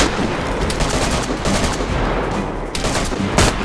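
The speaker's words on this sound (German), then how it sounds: "wer schießt denn da auf mich" Loud gunfire in the survival video game DayZ, dense overlapping shots and bursts that keep going almost without a break, with one sharper crack near the end.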